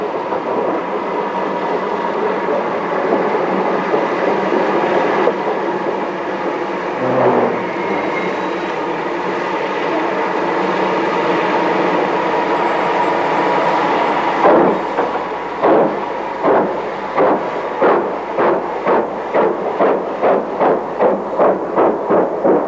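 A preserved L.M.S. Class II steam locomotive from the 1991 UK era runs past, a steady rumbling roar that builds into a loud, regular rhythm of wheel beats toward the end.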